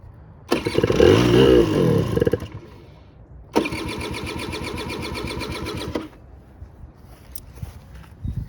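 A 1985 Honda Aero 50 scooter with a vacuum petcock cranks and catches in two loud bursts: a rough two-second run, a pause, then a longer buzzing idle of about two and a half seconds before cutting out.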